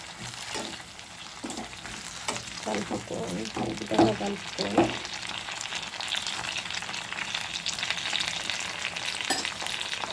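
Tamarind is stirred into tomato mint chutney in a frying pan, giving a steady sizzle with scraping and stirring clatter. A voice talks over the cooking sounds.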